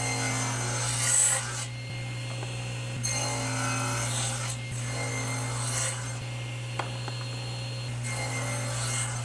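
Handsaw cutting through a small wooden block for a spiral depth gauge, several rhythmic rasping strokes in bursts with brief pauses between cuts over a steady low hum, close and moderately loud, no talking.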